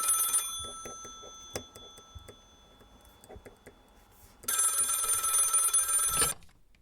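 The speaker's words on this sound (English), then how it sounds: "An architect is busy doing architect things when his office phone rings." An office telephone rings in a 1930s Wisconsin architect's office, two loud bursts of bright ringing with ticking in between.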